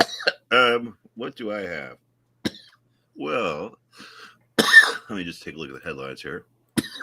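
A man coughs once, sharply and close, partway through his own talking, with a throat-clearing quality set among his sentences.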